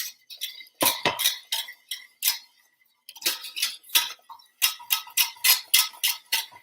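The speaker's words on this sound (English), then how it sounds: "now I'm just going to do a good whisk to ensure that it's all combined nice and smooth" A whisk rapidly clinking against a bowl while stirring caramel, close and crisp, in quick rhythmic bursts with short pauses between rounds.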